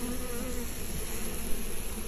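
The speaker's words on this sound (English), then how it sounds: "They do this by forming a tight ball around the queen and vibrating their wings to turn up their body temperature" Honeybees buzz steadily and closely as they form a tight ball around a queen and vibrate their wings, a dense continuous drone with no voices.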